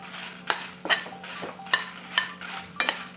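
Four to five garlic cloves fry on low flame in a pan for Mangalore-style dry prawn chutney. A quiet sizzle is broken by about six sharp spatula scrapes at a steady, unhurried pace.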